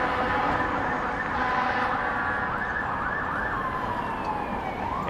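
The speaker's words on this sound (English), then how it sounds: "That sounds like a fire truck." A fire truck siren wails and sweeps up and down over steady city traffic rumble in Toronto, loud and fairly close, with horn-like tones sliding across the passage.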